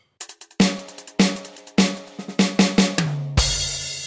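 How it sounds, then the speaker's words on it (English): Funk-style 5-stroke rolls played on a Roland V-Drums electronic kit, moving between hi-hat and snare: quick clusters of crisp, close strikes separated by brief gaps, ending in a louder, washy crash. "those were 5-stroke rolls in a funk style"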